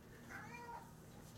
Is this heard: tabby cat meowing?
yes